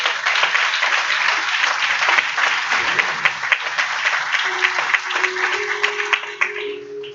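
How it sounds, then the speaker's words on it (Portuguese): A church congregation applauds during a sermon, with steady, dense clapping filling the room for several seconds, close and fairly loud, with a faint hum underneath. "Pode aplaudir Jesus, meu irmão."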